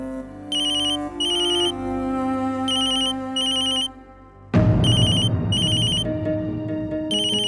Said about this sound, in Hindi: गायत्री बहन का फोन है।